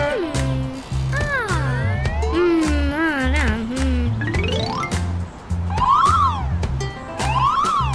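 A cartoon tow truck's siren in a children's animated show, loud wailing sweeps that rise and fall again and again over bouncy background music, with no talking.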